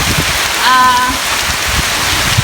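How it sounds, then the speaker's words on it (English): Heavy rain from Tropical Storm Eta lashes down in George Town, Cayman, driven by strong wind; a loud, dense, steady roar of rain on surfaces, close and continuous, with a faint tonal whine briefly in the middle. "All the rain is just blowing in on me. The wind is super strong."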